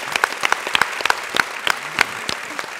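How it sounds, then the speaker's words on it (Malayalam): A studio audience on a Malayalam TV singing show breaks into applause, with sharp individual claps rising over a steady, close patter. "അതുകൊണ്ട് ഈ കോൺട്രവേഴ്സിയുടെ സമയത്ത് പോലും ഒരു കയ്യടി തരാതിരിക്കാൻ പറ്റില്ല."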